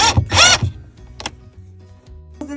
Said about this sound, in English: Next stage is to just drill the wood screw in, not fully tight though